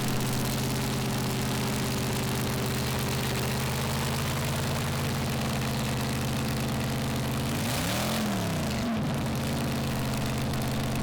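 A Chevy 526-powered pulling tractor at a tractor pulling championship event idles loudly with a deep, steady engine drone, then revs up and drops back sharply near the end.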